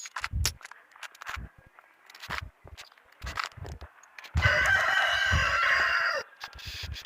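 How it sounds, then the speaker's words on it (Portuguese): A rooster crows loudly and fairly close in a rural yard. Before it, footsteps crunch along the ground, and then one long drawn-out crow rings out. "Os galos cantando, liga não."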